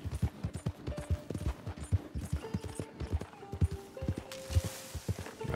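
Horse hooves clip-clop at a steady walking rhythm in Red Dead Redemption 2, each footfall distinct and fairly close, with faint tonal game music underneath and no talk.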